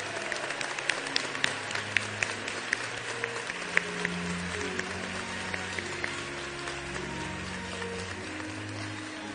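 An audience at a graduation ceremony applauds in steady, sustained clapping of moderate loudness. Sharper individual claps stand out near the start, and low tones hum underneath.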